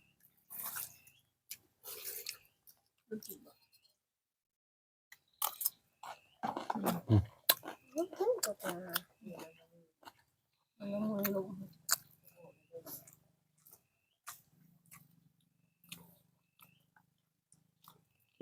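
A family eats breakfast with close, wet chewing and biting, occasional utensil or water sounds and brief voices, separated by quiet pauses.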